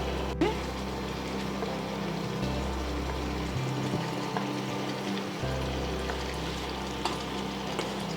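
Fish pieces fry in hot oil and gravy in a pan, a steady low sizzle and bubbling that runs continuously beneath a faint background hum, with no one speaking.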